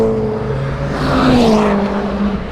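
Time attack race cars at Brands Hatch roar past nearby, engine pitch rising and then falling as they sweep by, with a loud whooshing pass through the middle.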